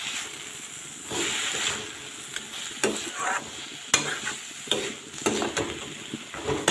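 Manimuni greens for an Assamese fish curry stir-frying in a pan. A spoon scrapes and stirs with an irregular rhythm over a steady close sizzle, and no one speaks.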